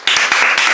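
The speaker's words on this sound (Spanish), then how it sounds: "un aplauso" A small group in a Spanish-language sweets-tasting session claps loudly and close up in a brief, steady run of hand claps with a slight rhythmic pulse.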